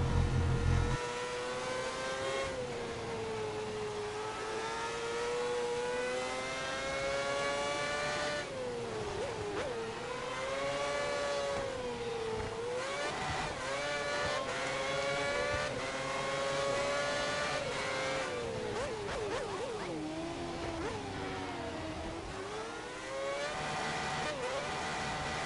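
Formula 1 cars race around a circuit in the video game F1 2010, their high-pitched engines whining steadily and shifting through gears as they rise and fall in pitch, with several cars audible throughout.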